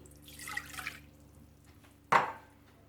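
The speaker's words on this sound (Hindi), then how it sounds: "सबसे पहले इसका डो तैयार करने के लिए आप डाल लें नीम गर्म पानी" Lukewarm water poured into a bowl for pizza dough, a short trickling splash followed by a sharper burst of liquid, close and fairly quiet with no talk.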